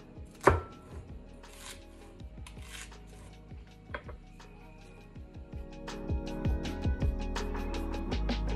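A knife chops onion on a cutting board: one sharp initial chop, then a series of irregular, fairly quiet knife taps that quicken toward the end, close and with no talk.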